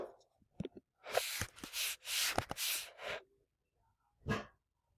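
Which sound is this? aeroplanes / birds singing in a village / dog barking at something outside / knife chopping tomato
dog barking at something outside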